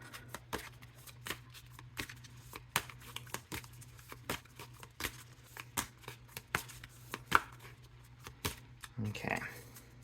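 A deck of tarot cards being shuffled by hand, a quick series of close, crisp riffling snaps at uneven intervals, with a soft voice speaking in the background.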